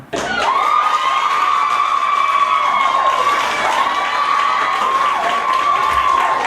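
A room of young fans screams and cheers as if at a concert, a sustained high-pitched roar of shrieks and yells that stays loud and dense without a break from start to finish.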